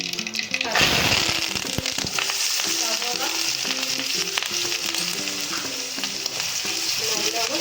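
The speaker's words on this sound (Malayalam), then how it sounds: "വഴറ്റി കൊടുക്കാം. സവോള നല്ലോണം വാടി കിട്ടിയിട്ടുണ്ട്." Sliced onions sauté in hot oil with mustard seeds for an egg masala, sizzling loudly and continuously after a brief clatter at the start, with scraping stirs mixed into the frying hiss.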